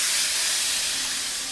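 Tempering (phodni) with turmeric sizzles in hot oil for a raw-mango aamti, a steady, close, bright hiss that holds evenly and fades only slightly, with no talk over it.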